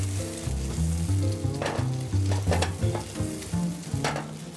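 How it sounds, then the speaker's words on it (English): Crab meat and scallions sizzle in a pan while it is shaken and tossed, a steady close fry with bursts of scraping clatter as the food jumps, over a low tonal hum. "and give it a little shake around"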